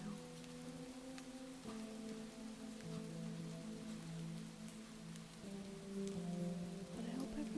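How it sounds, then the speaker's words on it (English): Rain falls in a steady, soft patter throughout, with faint tonal background sounds underneath and no speech. "if you feel like just listening to the rain"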